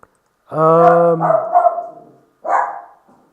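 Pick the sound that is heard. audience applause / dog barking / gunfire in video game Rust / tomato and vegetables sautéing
dog barking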